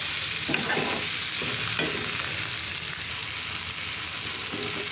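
Ginger-garlic paste and spice mix sizzle steadily in a frying pan while a spoon stirs it in a few short scraping bursts, close and continuous with no voices.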